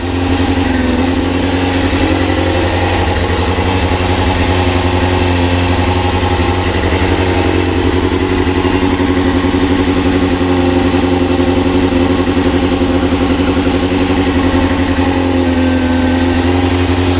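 A Yamaha YZF-R6 sport bike idles loud and close after fresh ignition coils, holding a steady, even rumble that hardly varies all the way through.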